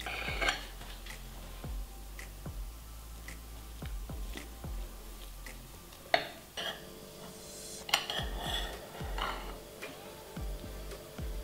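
A knife cuts through a soft, freshly baked cake pie, giving a series of light taps and scrapes against a plate or pan, with a few sharper clinks spread across the cut.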